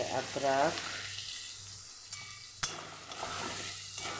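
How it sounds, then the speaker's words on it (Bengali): Ginger, panch phoron, bay leaves and dried red chillies fry in hot oil in a home kitchen, a soft steady sizzle with a few scraping stirs and one sharp clink partway through. "আদরক, পাঁচ ফোড়ন, তেজপাতা, শুকনো লঙ্কা, তেজপাতা যেটাকে আমি ভাজা ভাজা করে নিচ্ছি"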